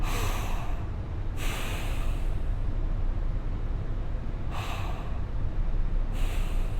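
Slow, deep recovery breaths, heavy and close, with a continuous rushing airflow throughout and a few sharper inhale or exhale bursts standing out, no talking.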